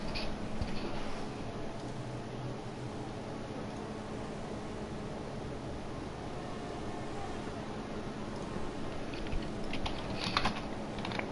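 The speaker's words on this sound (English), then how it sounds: "Sorry if you can hear typing." Soft, continuous keyboard typing with rapid light clicks under a steady background hiss, fairly faint and distant, during commentary of an F2 racing game league race.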